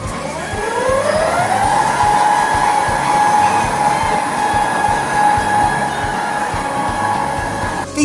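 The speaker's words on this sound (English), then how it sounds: "These are climbing lifts, so the motor's actually on top of the lift, climbing lift up a rack and pinion system." Alimak Hek climbing lift, its motor mounted on top driving up a rack and pinion, gives a steady loud mechanical whine that rises in pitch over the first second or so, then holds an even drone over a rumbling, clattering base.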